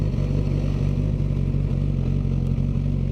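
A Suzuki GSX-S1000 motorcycle engine idles steadily nearby on a cold day, giving a continuous low rumbling thrum with slight mechanical clatter and no talking.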